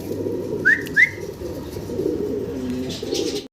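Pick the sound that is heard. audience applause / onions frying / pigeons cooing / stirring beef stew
pigeons cooing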